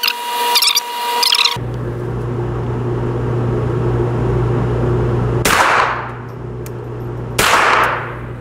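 Suppressed .22 rifle firing Stinger rounds into a bullet trap: two sharp cracks a couple of seconds apart, each followed by a long, echoing decay over a steady background hum, with no talk.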